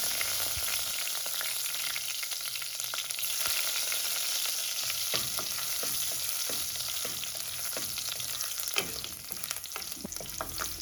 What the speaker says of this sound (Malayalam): ഇനി അരിഞ്ഞു വെച്ച ഇഞ്ചിയും വെളുത്തുള്ളിയും കൂടി ചേർത്ത് കൊടുക്കാം.